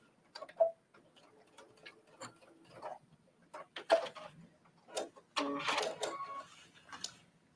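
A sewing machine stitches an invisible zipper with gray thread, its teeth folded open as the seam runs down to a chalk mark. Close, dry ticking clicks come in uneven bursts, ending in a denser run of stitching with no talk.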